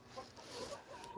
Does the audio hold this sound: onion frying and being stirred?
no